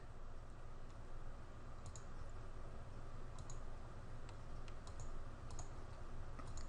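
Quiet keyboard typing during a WordPress sales-page edit, with sparse, irregular light key clicks spread through the clip over a steady background hum, no voice.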